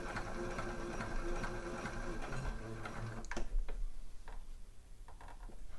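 A domestic sewing machine stitches a dress neckline in a steady fast whirring run that stops partway, after which come a few faint clicks and handling noises.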